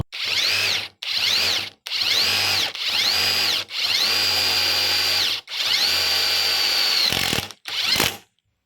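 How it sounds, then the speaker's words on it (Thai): A TEH LID230 cordless impact driver whirs and hammers in repeated bursts, pitch rising as each spins up, with longer runs later as it bores into nearly 5 mm thick steel angle, close and loud. "ลองมายิงเหล็กหนากันมั่งนะครับเราปรับมาที่หมวดที่3นะครับเจาะเหล็กหนาเหล็กฉากนะครับ"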